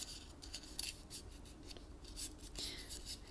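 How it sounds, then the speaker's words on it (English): A paper star ornament is folded along a score line, giving soft crinkling and rubbing of paper with a few brief crisp creases, close and quiet with no talk. "I'm going to fold it along that score line."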